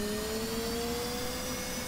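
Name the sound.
F/A-18C jet engine spooling up during cold startup, DCS World video game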